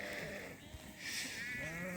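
Mor breed sheep bleat over a steady outdoor background, with several drawn-out calls overlapping across the two seconds and no speech.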